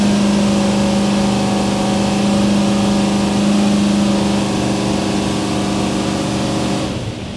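Small engine on a carburetor test, held at a steady 3,000 RPM, giving a loud, constant mid-pitched drone that barely varies for several seconds before easing slightly at the end.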